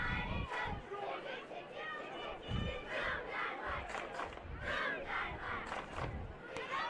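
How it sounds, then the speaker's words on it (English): Cheerleaders chant and yell at a youth football game, heard as a steady wash of rhythmic crowd cheering and chatter, loud and continuous, with no clear single voice standing out. "Here those cheerleaders are cheering out there."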